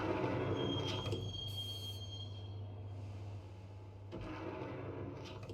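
A video game train rumbles along quietly with a steady low drone, a brief hiss and squeal partway through, like riding inside a carriage.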